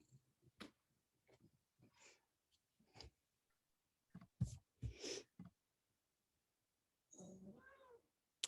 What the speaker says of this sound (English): I have a very needy cat today